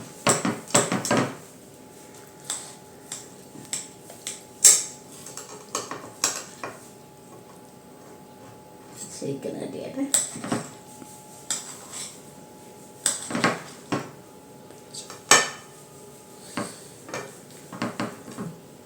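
Cutlery scraping and tapping on a plate while slicing freshly made, still-warm paal pathiri, a soft Kerala rice flatbread; scattered light clinks and scrapes come in irregular bursts, close and fairly quiet, with no talk.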